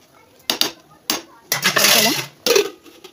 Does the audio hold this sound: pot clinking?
yes